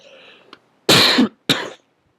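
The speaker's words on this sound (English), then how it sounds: "I'm just having a really bad cough today." Two loud, close coughs in quick succession from a person, each a harsh broadband burst, preceded by a faint breathy throat sound.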